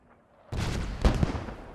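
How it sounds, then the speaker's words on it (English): Incoming mortar rounds explode in Post Scriptum, a World War II shooter, during a realism event. A low rumble gives way to a sudden loud blast, a heavier boom follows about half a second later, and a smaller impact comes after that. "Got some mortar rounds coming in as well"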